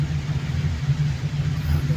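Light traffic on EDSA in Metro Manila, a few private cars passing, heard as a steady low engine rumble and road noise at a moderate distance with no voices.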